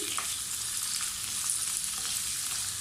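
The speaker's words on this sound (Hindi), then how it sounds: "एक कढ़ाई में मैंने कुकिंग ऑयल डाल दिया" Onions fry in hot cooking oil in a kadai, a dense, even, close sizzle that holds steady throughout.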